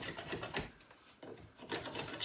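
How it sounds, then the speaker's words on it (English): An AEB-L steel knife edge stroked on a ceramic rod, a series of quiet rasping scrapes in an uneven rhythm, close and soft with no talk. "So I just put it back on the ceramic rod and get it back to a more polished, like more finer edge"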